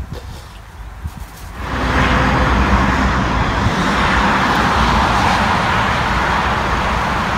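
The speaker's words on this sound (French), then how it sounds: "Les embouteillages" Road traffic in a jam: a quieter start gives way to a loud, steady broadband roar of passing vehicles that holds without a break.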